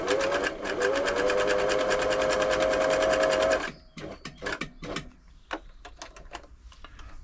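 Singer 6104 sewing machine running a zigzag stitch, a loud rapid mechanical whirr for several seconds that stops abruptly, followed by scattered clicks and handling taps.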